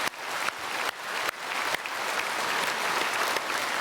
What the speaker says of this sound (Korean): 영광의 박수 하나님께 올려드리겠습니다